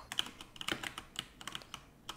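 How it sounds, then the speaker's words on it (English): Someone types on a computer keyboard with loud keys, making a quick, irregular series of sharp clicks and clacks. The sound is close and fairly faint, with no talking. "You're pretty sure you guys can hear my keyboard?"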